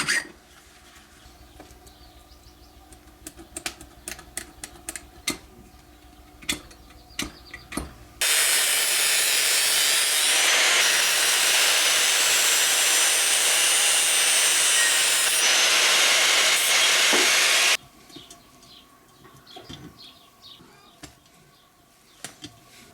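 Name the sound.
filing the cut ends of square metal tubes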